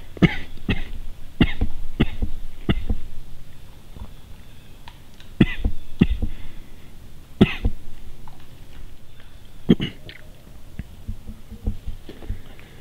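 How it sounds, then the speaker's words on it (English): A man coughs repeatedly, trying to clear something stuck in his throat, producing a string of sharp, close coughs at irregular intervals with quiet gaps between. "I got something in my throat. I'm fucking gonna cough."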